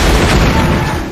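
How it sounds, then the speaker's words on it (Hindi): A loud, close blast with a heavy low rumble that roars on for the whole moment before easing slightly at the end, with no voices. "एक हिंसक विस्फोट हुआ"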